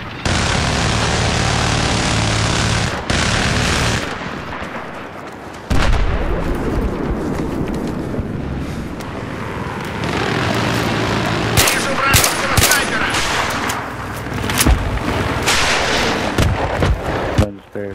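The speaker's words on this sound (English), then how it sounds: "he threw it down and then I started shooting at him" Continuous video game gunfire with dense rapid shots and heavy booming blasts, loud and sustained throughout, with occasional sharp bursts rising above a constant roar of battle.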